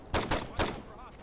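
Three sharp gunshots in Saints Row 2, close and punchy, evenly spaced within about half a second, followed by fading game ambience.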